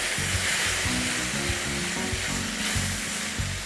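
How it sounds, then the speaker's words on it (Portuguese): Steady sizzling of food frying in a pan for mushroom risotto, a continuous crackling hiss with occasional stirring scrapes, close and fairly loud, no voices. "Aí vou fritar, mas não precisa fritar muito"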